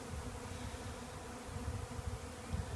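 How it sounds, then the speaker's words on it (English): Honey bee swarm flying over a small vegetable garden with lettuce in Forest Hill, Maryland, a dense continuous buzzing drone from many bees, steady and fairly close with no talk. "A lot of bees are coming towards this little garden over here"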